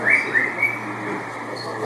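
A small bird gives a few brief, high chirps early on, then falls quiet, over a steady low hum of outdoor ambience.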